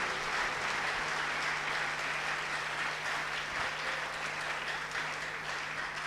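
A church congregation claps together in sustained, dense applause, steady and loud throughout with no speech over it.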